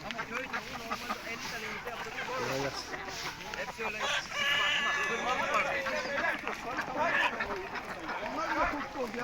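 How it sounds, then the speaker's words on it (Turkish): Village chickens cluck and squawk at a pigeon and small-animal market in Sakarya, Turkey, with duck quacks and crowing mixed into dense, busy poultry noise while people talk nearby throughout. "Köy tavukları."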